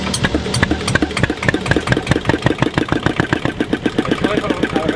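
An old boat engine starting and then idling, with a close, loud, rapid rhythmic chugging that settles into a steady even beat.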